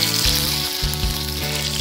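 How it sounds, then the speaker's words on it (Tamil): Green chillies sizzle and crackle loudly in hot oil in a pan while an egg masala gravy is cooked, a steady close-up frying hiss with a few bursts of spitting and no voices. "ஆயில் ஹீட் ஆனதோட பச்சை மிளகாய் சேர்த்துங்க."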